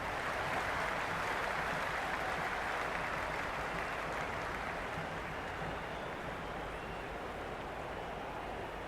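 Steady roar of a cricket stadium crowd in the video game Cricket 26, a dense continuous wash of cheering and clapping that holds loud throughout with no pauses.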